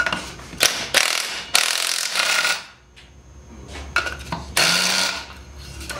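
Ratchet wrench cranking while a Bilstein 5100 shock absorber is fitted to a vehicle: close, loud bursts of rapid clicking in uneven runs, separated by a quieter pause midway.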